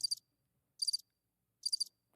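A cricket chirps three times in evenly spaced, high, pulsing trills over otherwise near silence, like an inserted sound effect.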